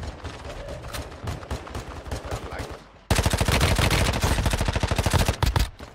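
Rapid automatic gunfire from a gun in an online team shooter game, a steady rattling stream of shots that turns louder and denser halfway through, with no talk over it.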